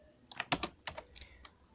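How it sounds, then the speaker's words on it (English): A handful of computer keyboard keys click softly and close by, a short cluster of taps followed by a couple of isolated presses against a quiet background. "space on the keyboard and the question mark"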